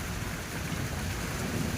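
Steady rain hisses all around with a low, rolling rumble of thunder underneath, an unbroken wash of noise throughout.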